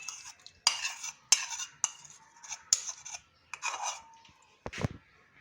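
Yogurt being stirred into mutton in a karahi, a spoon scraping and clattering against the metal pan in repeated uneven strokes, close and fairly loud.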